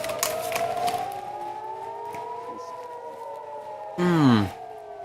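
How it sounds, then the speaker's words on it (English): Air raid sirens wail in the distance and from all around, long steady rising and falling tones layered across the whole clip, with a louder, nearer burst of noise near the end. "I can hear sirens in the distance and now all around us as well."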